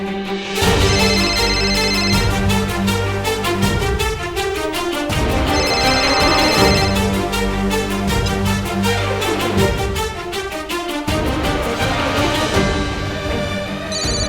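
A tonal electronic ringtone loops repeatedly, loud and steady, its melodic pattern cycling over and over with no voices.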